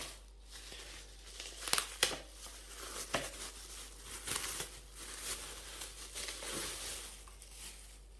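Notebook paper used as packing crinkles and rustles in irregular bursts while a package is unpacked, with a few sharper crackles, close up and fairly quiet against a faint low hum.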